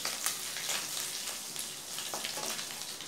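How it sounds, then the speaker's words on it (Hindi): Ginger and green chilli sauté gently in a pan over a low flame, giving a steady, soft crackling sizzle that continues evenly throughout with no talking. "सिम पर ही हम अदरक और हरी मिर्च को 1 मिनट तक भूनेंगे।"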